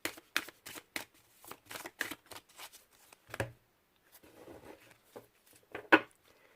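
Tarot cards being cut and handled, a quick series of crisp card slaps and riffles close by, then softer shuffling and one sharp final snap of the deck; no speech.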